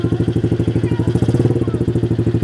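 A small ATV quad bike engine idles after starting, with a steady, rapid chugging pulse, loud and close, a light mechanical clatter running through it.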